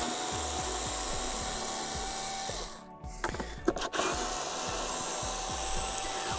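Two screws are loosened on an Einhell GC-SC 36/31 cordless lawn scarifier: steady, rhythmic scraping clicks, close and fairly quiet, that break off briefly partway through and then resume.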